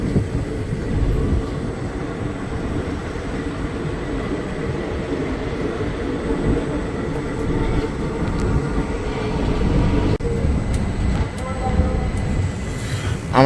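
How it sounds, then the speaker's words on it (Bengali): A passenger train on Indian railways running just after pulling out of Lalbagh Court Road station, a steady low rumble and rattle heard from inside the coach, with faint background voices. "লালবাগ থেকে এখন ছাড়লো ট্রেন"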